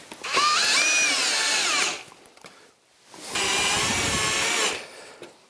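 A power drill drives screws to fix a support onto a sectional garage door panel, with two loud whirring bursts of a couple of seconds each separated by a short pause.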